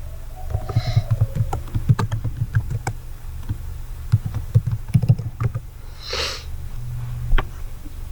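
Keys tapped on a computer keyboard while text is entered in Microsoft Word, close and moderately loud in uneven bursts and runs of clicks, with a couple of faint breathy sniffs between.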